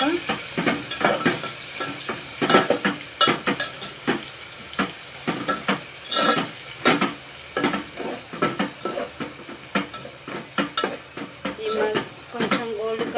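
Ginger garlic paste frying in a pan for a chicken dish, with continuous close sizzling broken by frequent scraping and clinking of a spoon stirring against the pan, and occasional faint voices.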